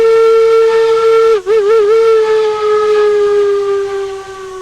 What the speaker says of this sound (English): a sharp, high-pitched whistle cut through the yard